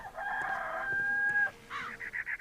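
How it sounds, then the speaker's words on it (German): In the video game Crimes & Punishments, a rooster crows loudly and close by in one long drawn-out call, followed by a few shorter clucking notes. "Ein Hahn. Ein Hahn, der kräht."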